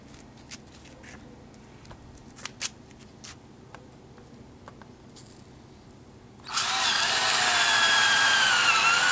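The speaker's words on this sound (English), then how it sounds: "I'm going to get to drilling" After some light handling noises, a power drill bores into a wooden block for a mason bee house, starting abruptly and whirring loudly and steadily to the end.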